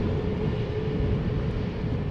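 An EasyJet airliner at Schiphol Airport gives off a steady low jet engine rumble and roar, continuous and moderately loud, with no voices.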